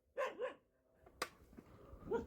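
Dogs barking outdoors in rural Maharashtra, near where cattle are kept: two quick barks up front, a sharp yelp in the middle and another bark at the end, moderately distant and alone.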